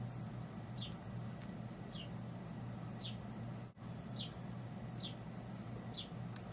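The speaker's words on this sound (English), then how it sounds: "There's like this bird going crazy right outside my window." A bird outside a window gives a short chirp about once a second, faint and distant above a steady low indoor hum.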